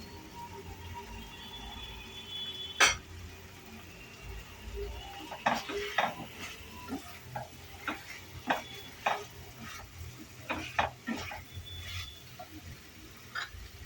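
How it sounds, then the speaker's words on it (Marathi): Mushrooms being stirred into a masala mixture in a pan, with a run of spoon scrapes and clinks against the metal over a steady low frying background, close and moderately loud. "हे सगळं मिश्रण 1-2 मिनिटं परतल्यानंतर त्याच्यामध्ये घालूया मशरूम्स"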